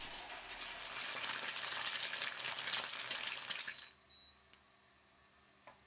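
An egg frying in a thin coat of olive oil in a pan, a dense, steady crackling sizzle that runs for about four seconds and then drops away to quiet, leaving only a few faint ticks.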